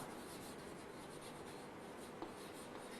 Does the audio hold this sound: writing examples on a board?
yes